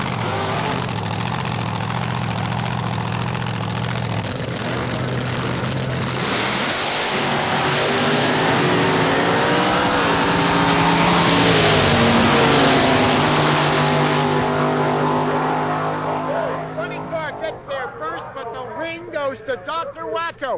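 Drag racing cars, a quicker Vega chasing Elmer's car down the strip, make a loud roaring engine howl that swells and fades. Commentary and crowd-like chatter take over near the end.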